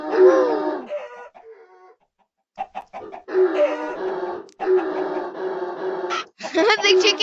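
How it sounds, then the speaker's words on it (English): Clucking chicken sounds from the Minecraft video game come in loud, repeated bursts with short gaps, mixed with other game effects and a voice talking. "The chicken is flying."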